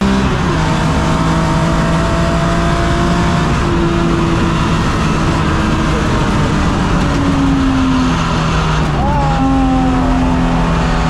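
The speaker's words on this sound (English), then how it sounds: "Here comes the BMW with its lights on." A BMW race car at a Silverstone national CSCC club race drones past with a steady, loud engine tone and a rising whine near the end, under continuous trackside commentary.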